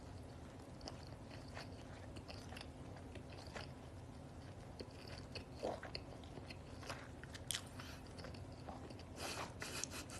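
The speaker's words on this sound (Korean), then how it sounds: "오빠 씹는 소리 너무 버거워 보여." Close, quiet chewing of chicken breast, with soft wet crunches and biting sounds repeating irregularly over a low steady background and no talking.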